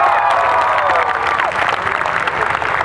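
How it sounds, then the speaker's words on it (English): An audience at a Kala Ghoda 2016 performance claps steadily throughout, a dense continuous patter of many hands with some crowd noise and faint voices mixed in. "If you're happy, clap your hands."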